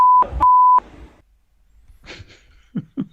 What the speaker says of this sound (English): They bleeped out mother.